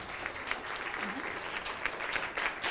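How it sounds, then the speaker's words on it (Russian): A television studio audience applauds a presenter at a festival event, steady dense clapping at moderate level throughout, with a faint voice underneath. "Ваши бурные аплодисменты"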